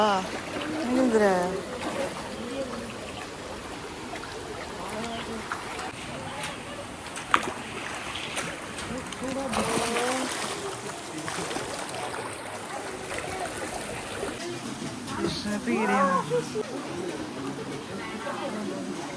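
Water sloshes and splashes around a small paddled country rowboat gliding along at a theme park in Kottayam, Kerala, with people talking throughout and occasional louder ripples.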